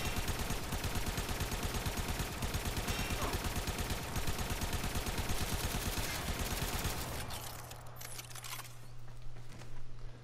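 A Rattleguts full-auto secondary in Warframe fires a dense, continuous stream of rapid shots for about seven seconds, then stops abruptly, leaving a low hum and scattered faint clatter.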